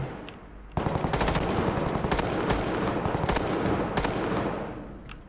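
Rapid automatic gunfire from a realistic gun-customizing Roblox game rattles out in a dense continuous burst after a brief pause, loud and close, with a few sharper shots standing out.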